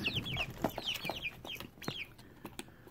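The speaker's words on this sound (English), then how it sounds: "I'm going to move chickens." Several chickens cluck and squawk close by in quick, overlapping calls, with faint shuffling underneath.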